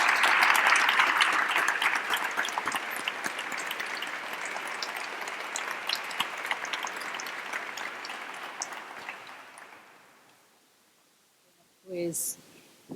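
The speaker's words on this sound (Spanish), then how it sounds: "yo pediría un aplauso para los tres ponentes" Audience applause for three panelists at the close of a Spanish aerospace-industry panel debate: a dense, sustained wash of clapping that slowly thins and fades out over about ten seconds, followed by a short burst of speech.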